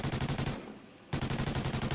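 Rapid automatic gunfire in Call of Duty Ghosts multiplayer, a fast steady burst that stops for about half a second and then resumes at the same rate, loud and close.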